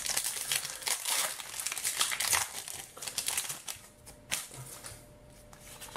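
A Pokémon card booster pack wrapper is torn open and crinkled up close, with dense bursts of crackling plastic and irregular rustles. No one speaks.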